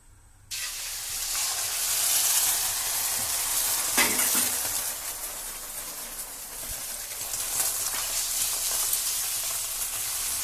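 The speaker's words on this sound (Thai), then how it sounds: "เราก็ใส่ไข่ลงไปนะครับ เขาเรียกว่าไข่เจียว" Beaten eggs hit hot oil in a pan for a Thai omelette (khai jiao), bursting into a loud, steady sizzle that crackles and hisses close by for several seconds, with no talking.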